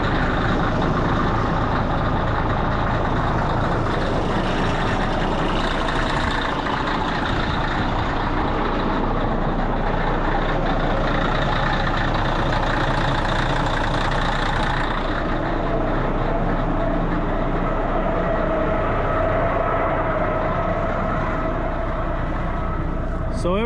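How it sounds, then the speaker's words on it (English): A scraper's diesel front engine runs on a farm site while a potato storage is being built, a loud continuous rumble throughout, with voices heard under it. "these scrapers front engines, they just fire up and run"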